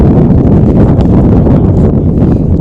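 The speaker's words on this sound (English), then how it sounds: "It's a bit windy" Wind blowing outdoors at a flag football game, a loud steady buffeting rumble across the microphone throughout the short stretch.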